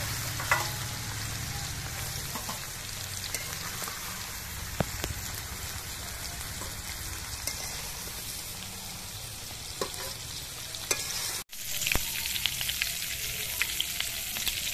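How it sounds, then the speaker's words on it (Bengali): Salted cauliflower florets fry lightly in hot oil with a steady, dense crackling sizzle. The sound is close and continuous, broken only by a brief dip near the end, and no one speaks. "ফুলকপিগুলো আমি খুব লাল করে ভাজবো না, হালকা ভেজেই তুলে নিচ্ছি।"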